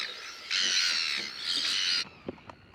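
Seagulls calling along a coastal walkway in New Zealand in summer, two loud, harsh drawn-out squawks close by, followed by a couple of faint short clicks and quiet ambience.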